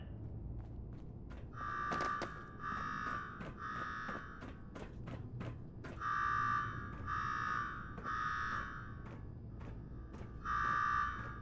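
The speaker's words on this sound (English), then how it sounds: "Now go shut off that damn alarm" An electronic alarm in the video game Fallout 4 rings in repeated pulsing bursts, loud and steady, with scattered thuds and background noise between bursts.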